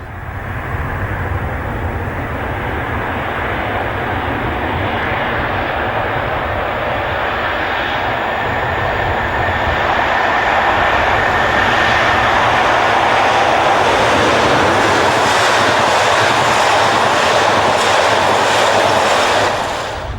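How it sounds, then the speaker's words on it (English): A diesel train hauled past Wellingborough with class 47 locomotive 47355 on the rear, giving a loud, steady broadband engine and rail roar that swells in the second half and holds alone throughout. "The train passes Wellingborough with 47355 on the back."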